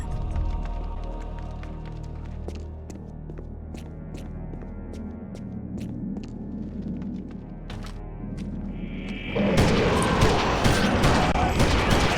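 Gunfire in the Eternal Darkness video game: a dense, loud burst of shots erupts near the end after a stretch of low rumbling ambience with scattered faint clicks.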